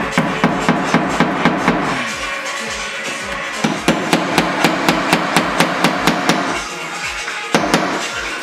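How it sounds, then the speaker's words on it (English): A hammer drives nails into wooden trim pressed against a wall. Close, loud strikes come in quick rhythmic bursts, with short pauses between runs of blows. "every 7 or 8 inches, I'm putting a nail, obviously to secure it"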